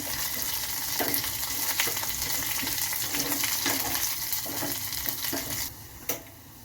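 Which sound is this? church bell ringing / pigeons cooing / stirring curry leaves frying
stirring curry leaves frying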